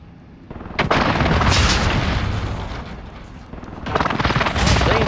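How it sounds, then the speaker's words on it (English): Precision airstrike explosions in Call of Duty Warzone hit as heavy, loud booms, one blast rumbling on for seconds before a second strike slams in, with voices faintly present beneath. "Allied precision airstrike incoming"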